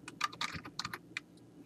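Typing a forum post on a computer keyboard, with irregular bursts of close, crisp key clicks and short pauses between them.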